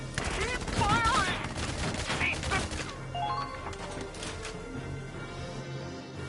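Gunfire in the video game Valkyria Chronicles 4, with a rapid fusillade of shots and bursts under game voices and effects, dense early and thinning out toward the end.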